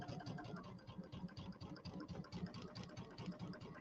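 A sewing machine stitches fabric for a Kimberbell table topper, a quiet, even mechanical whirring and rapid needle patter, close and continuous.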